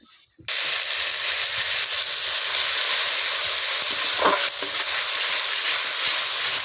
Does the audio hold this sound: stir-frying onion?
yes